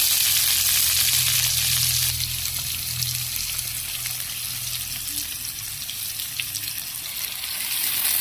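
Squash, tomato, onion and garlic sauté in a hot pan with a steady, bright sizzle that stays loud and continuous throughout, with faint stirring underneath.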